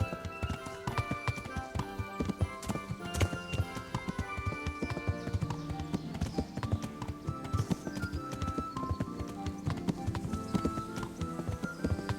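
Rapid, steady clip-clop of horse hooves at a trotting pace in the video game Kingdom Come: Deliverance, continuous and fairly loud with a dense rhythmic beat.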